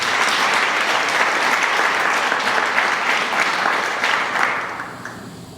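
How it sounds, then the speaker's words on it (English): Luncheon audience applauding sponsors, a dense, steady round of clapping from a large room that holds for several seconds before tapering off near the end. "Let's give them all a round of applause."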